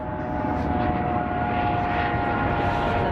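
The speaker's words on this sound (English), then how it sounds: "Another plane. A lot of planes going." A passenger airplane flying overhead near the Las Vegas Strip, a steady, loud engine roar and whine that holds evenly throughout with no talk.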